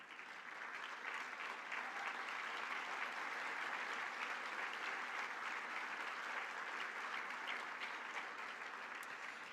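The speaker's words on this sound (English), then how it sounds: "so we can applaud you for your great work" A gala audience applauds a women's aid charity, sustained, dense clapping from a large crowd, even and full throughout with a faint murmur underneath.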